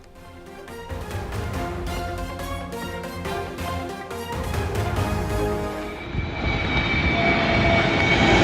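An IndiGo passenger jet on a Nagpur–Kolkata flight roars with a loud, sustained engine drone that swells and grows steadier, heard alone without talk.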